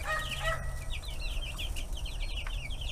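Young chickens, including two roosters, cluck and chatter in a continuous busy stream in a brooder, close by, over a steady low background hum.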